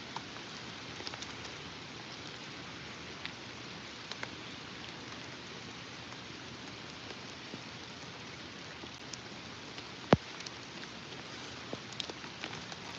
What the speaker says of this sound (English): it is a really rainy day out here